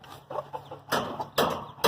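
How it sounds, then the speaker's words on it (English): A hen kept in a cage with her chick gives a few close, soft clucks and then louder bursts of clucking in quick succession. "Here's the hen that I was talking about. She's got a chick in there."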